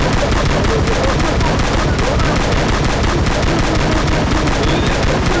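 Shotgun fire in the BGMI mobile battle royale game, with dense, continuous gunfire blasting without pause under the game's background noise, loud and close throughout with a little talk mixed in.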